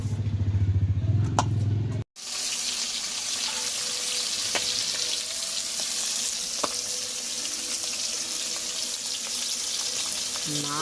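Boal fish frying in hot mustard oil hisses with a loud, steady sizzle, with a few faint clicks over it. The sound starts after a brief cut.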